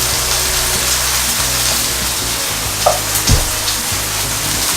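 A tablespoon of butter melting in a skillet makes a loud, steady sizzle that runs throughout, with a couple of soft knocks near the end.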